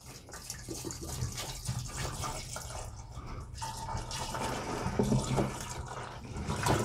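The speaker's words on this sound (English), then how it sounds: "all we need to do at this point is to go ahead and add that to our fermenter." Strawberry mead must poured into a one-gallon fermenter, a steady splashing, gurgling liquid stream running close up throughout with small drips and sloshes.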